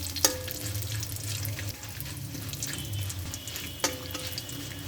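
Garam masala and two dried red chilies fry in hot oil in a tempering pan, giving a steady close hiss broken by two sharp clicks.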